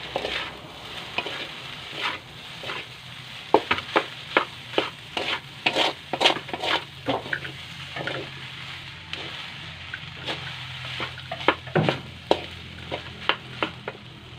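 Food frying in a pan is stirred with repeated scraping clacks of a utensil over a low sizzle, irregular strokes close by, with no voices.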